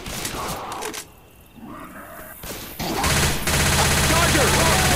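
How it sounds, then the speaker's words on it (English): Machine gun fire in Left 4 Dead 2, dense and continuous through the second half, with a quieter stretch of game sounds and voices before the loud burst builds. "machine gun"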